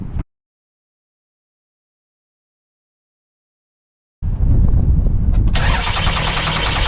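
A Toyota Sienna engine with a fuel pump fault cranks without starting, a loud, steady grinding churn that begins abruptly after a long silence and keeps going.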